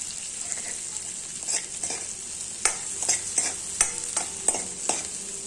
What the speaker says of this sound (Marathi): जे तेल हे कढईत आहे त्यातच आपण थोडी डाळ घालायची आहे